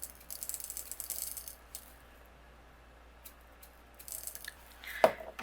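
Small plastic shaker balls for a birthday shaker card rattle and clatter softly in bursts, fairly close and quiet, with pauses between scoops and a sharper click near the end.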